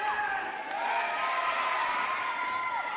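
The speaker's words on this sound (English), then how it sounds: "And this Blackpool crowd started to come alive for Fleisch and Storm" A Blackpool wrestling crowd at a live event cheers and whoops steadily for the full stretch, a dense, loud wall of voices that never lets up.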